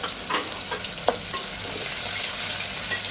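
Onion sizzles and fries in hot oil with green chili, curry leaves and spices for chana dal pulao, a steady close crackle with a few stirring scrapes.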